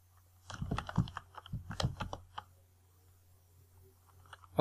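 Fingers type a search into a website pop-up on a computer keyboard, producing a quick burst of clicking keystrokes for about two seconds before the room falls quiet.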